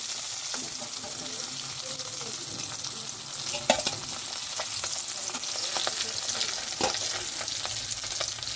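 Close, steady frying of Sarpunti fish in hot oil in a wok, a bright crackling sizzle punctuated by scattered clicks and taps of a spatula turning the pieces.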